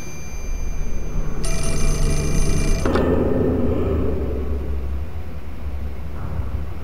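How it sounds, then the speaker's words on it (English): A telephone rings in the video game Fatal Frame IV, a bright electronic bell tone sounding in two bursts before cutting off into an echoing low rumble, with no voices. "somebody's calling on the phone"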